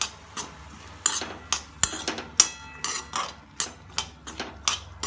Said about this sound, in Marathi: आता हे कांदा वगैरे पण टाकून देऊ. यांना हळवून घेऊ, मिक्स करून घेऊ यांना एकत्र.